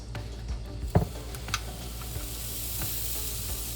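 Soft, steady sizzling of vegan waffle batter cooking in a waffle maker, with a few light clicks and taps, fairly quiet and without voices.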